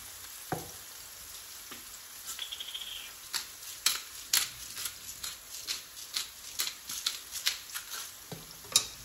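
Garlic and onions sizzle softly in a pan, with repeated clicks and scrapes of a utensil stirring them in an uneven rhythm, close and fairly quiet.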